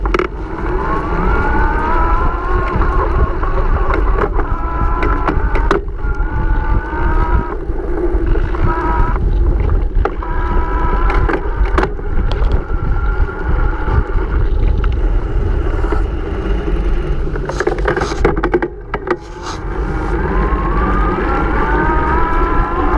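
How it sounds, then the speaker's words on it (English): A Bosch Active Line Plus e-bike motor runs in turbo mode in a relatively low gear, giving a loud, steady whine with rising and falling pitch sweeps and a constant rumble of rolling noise underneath. "This is the Active Line Plus in turbo mode and relatively low gear."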